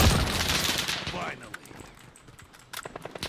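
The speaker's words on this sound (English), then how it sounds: "Fire rate on the PPSH really good." A PPSh submachine gun fires in Call of Duty: Warzone on Rebirth Island. A loud, rapid sustained burst fades out, then scattered single shots follow further off.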